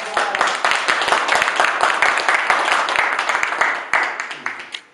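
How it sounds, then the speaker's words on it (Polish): Applause after an outdoor Christmas show at a radio telescope site, a close, loud patter of many hands clapping with sharp individual claps, slowly thinning toward the end. "Dziękuję, brawa."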